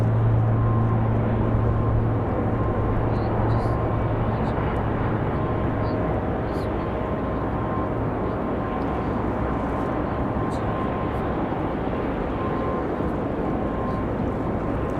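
A trainer airplane flies in toward Raleigh-Durham International Airport, heard as a faint, steady, distant engine drone over a constant low hum with no break throughout.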